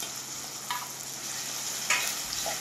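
Ginger-garlic paste being stirred with chopped green chilies in a pan for a fresh mutton curry, a steady soft sizzle broken by two or three brief scraping strokes of the spoon, close and alone.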